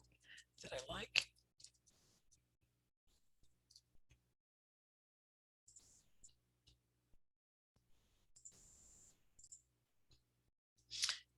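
Computer mouse clicking while working in Blender 3D software, a few sparse, quiet clicks scattered among soft desk rustles.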